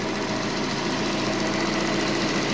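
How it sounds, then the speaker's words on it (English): Citroen Xantia engine running while it warms up, a steady, rattly idle with a faint knocking tick, even in level and heard alone. "the engine's warming up now"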